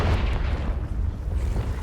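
A Confringo fire-blast spell in Hogwarts Legacy explodes with a loud, rumbling boom that fills the whole moment with dense low-end roar and crackle, alone and sustained without a clear break.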